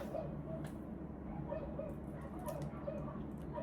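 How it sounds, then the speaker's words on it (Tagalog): Several dogs bark and yip intermittently in the background at a home, short sharp calls scattered over a steady low hum, fairly faint and distant. "Tumatahol naman ng mga aso ko."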